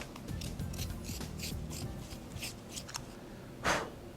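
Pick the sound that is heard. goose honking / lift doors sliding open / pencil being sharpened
pencil being sharpened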